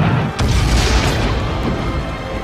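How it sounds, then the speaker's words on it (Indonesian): A bomb blast in a war film about the Soviet Union against Germany hits as a loud, deep boom and then rolls into a long, dense rumble with crashing debris. "ketika di perjalanan mereka terkena serangan bom"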